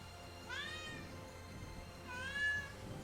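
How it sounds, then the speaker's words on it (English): A cat meows twice indoors, with two separate drawn-out calls over quiet background hum from a video game. "Don't go meow meow right when I start recording."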